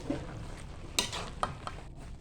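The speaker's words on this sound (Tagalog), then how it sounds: "Haluin natin ngayon ang ating pancit canton." Pancit canton noodles are stirred in a pan with a utensil, giving quiet scraping and a few sharp metallic clinks over a soft background sizzle.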